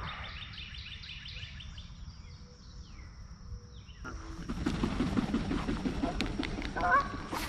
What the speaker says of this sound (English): right where those two geese are in the water right there